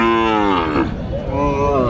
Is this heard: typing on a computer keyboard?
no